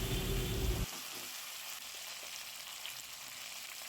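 Potatoes fry in a pan with capsicum and chopped tomato added, giving a steady, close sizzle with a muffled thump at the start and no talk.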